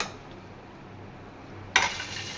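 Tadka poured and stirred into chicken in a pan: a low steady kitchen hum, then a sudden sharp metallic clatter with a hissing sizzle that lingers near the end.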